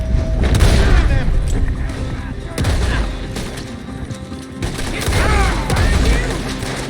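Gunfire during a shootout in Red Dead Redemption 2, with repeated heavy booms and shots ringing out over several seconds amid loud shouting voices and chaotic action.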